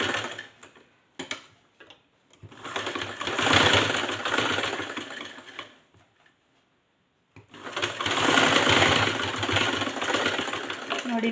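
A sewing machine stitching cloth runs in two steady whirring bursts separated by a short pause, close and fairly loud, with a few clicks at the start.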